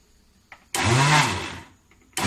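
A mixer grinder whirs loudly for about a second while making motichoor laddu, then winds down, with a brief restart at the very end.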